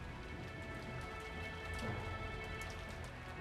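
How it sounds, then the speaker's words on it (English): Steady rain outside with wind, a continuous dense hiss of drops on surfaces with a faint low rumble swelling midway, no voices. "is there background noise or is it just like the wind and rain?"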